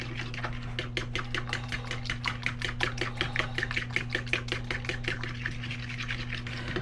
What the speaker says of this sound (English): We're gonna whisk that all in there together.